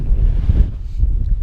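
Gusty wind of about 20 mph on Dartmoor buffeting the microphone, a loud low rumble that swells and eases over a short stretch.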